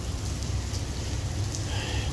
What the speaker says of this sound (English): it's raining like a mug